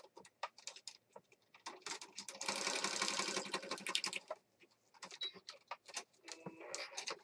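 Sewing machine stitching a junk journal page, a fast whirring patter in a couple of bursts between scattered taps and handling clicks, close and moderately loud.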